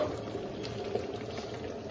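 Mutton curry simmers in a pot on the stove, a soft, steady bubbling and faint liquid burble with no voices over it.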